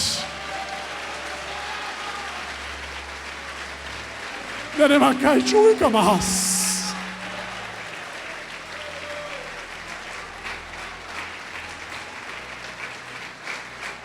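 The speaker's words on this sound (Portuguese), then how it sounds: "Aplauda o Senhor nesta noite." A congregation at an evangelical church service breaks into a brief burst of clapping that rises and fades within a couple of seconds, set in an otherwise quiet hall with a voice heard.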